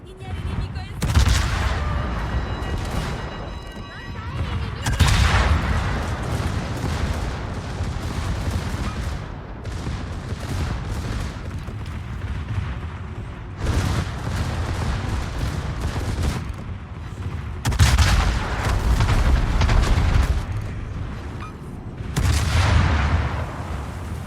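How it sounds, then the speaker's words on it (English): Naval secondary guns firing in a flagship operations video game battle, repeated booming volleys of heavy gunfire at irregular intervals, loud and close, with a steady rumble of battle between salvos. "Getting some good secondary fire on him"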